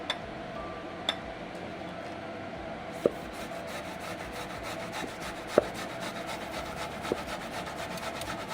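Food grated with a kitchen grater while a Spanish meal is cooked, a continuous dry scraping rub, close and fairly quiet, broken by a few faint clicks.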